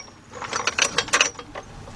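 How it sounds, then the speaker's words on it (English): A hydraulic jack is let down beneath a Cadillac Deville, giving a close series of metallic ratcheting clicks and mechanical clatters that come in bursts, with no talking. "We're gonna let our hydraulic jack down and see if how far our chassis drops."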